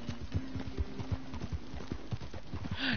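A horse's hooves clip-clop in a quick, even rhythm as it is ridden in Red Dead Redemption 2, fairly quiet, ending with a short whinny.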